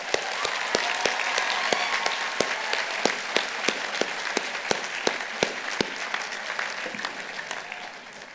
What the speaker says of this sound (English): give a warm round of applause to everyone that helped bring our